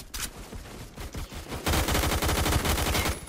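Rapid automatic gunfire from the video game Phantom Forces rattles in quick bursts, starting sparse and then becoming a dense, continuous volley in the second half.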